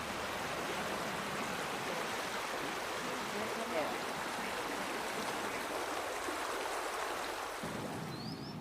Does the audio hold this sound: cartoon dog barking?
no